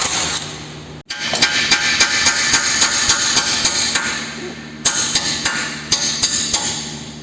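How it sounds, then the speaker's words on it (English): A left front CV axle on a 2016-2018 Chevy Malibu LT is hammered out of its knurled fit: a steady run of sharp metallic blows, close and loud, with a short pause partway through. "You gotta hammer it out because of that knurling."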